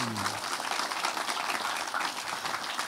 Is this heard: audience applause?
yes